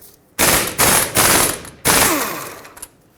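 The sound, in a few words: ratchet loosening 18mm caliper bracket bolt on Ford F-150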